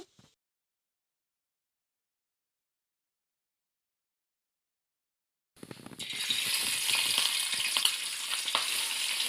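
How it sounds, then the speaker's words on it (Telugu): Fish pieces fry in a pan: after several seconds of near silence, a loud, dense sizzle breaks out and keeps going steadily close by. "ఈ విధంగా చేప ముక్కలు రెడ్గా అయ్యేంత వరకు ఫ్రై చేయాలి రిమైనింగ్ ముక్కలు కూడా వేసి ఫ్రై చేద్దాము"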